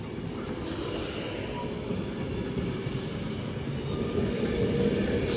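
A Class 390 Pendolino electric train runs past Oxenholme station in the Lake District on the Glasgow Central to London Euston route, a steady low rolling rumble that builds slightly in loudness toward the end, with no speech.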